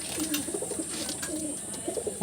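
Andhra pigeons cooing in a loft, a run of soft, low, repeated coos close by over a steady background hiss, with no talking.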